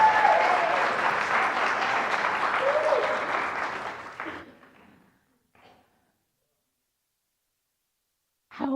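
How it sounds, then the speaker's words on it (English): A crowd applauds a singer after a song with loud, dense clapping that slowly thins and fades out over about four seconds, followed by quiet and a brief sound near the end. "Let's give him another round of applause."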